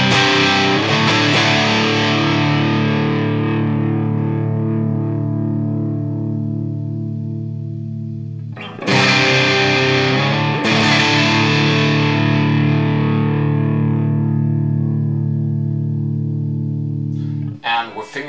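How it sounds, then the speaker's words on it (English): Electric guitar through an MP Custom FX Gainiac overdrive pedal, chords ringing out with a gritty, distorted tone, each strum sustaining and slowly fading before the next hard strike. "If I push the guitar really hard, the strings really hard, the sound breaks up very nice."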